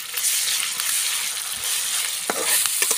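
Ginger sizzles in hot oil with onion and chili while it is stirred, giving a close, busy crackle broken by a few sharp scraping stirs, with no speech.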